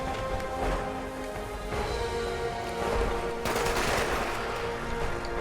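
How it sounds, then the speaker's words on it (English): A Gatling Plasma gun fires in the Fallout 76 video game, a sustained, rattling stream of shots with a surge of crashing noise partway through, steady and fairly loud throughout. "I'm gonna try the Gatling Plasma to show you how bad it is now"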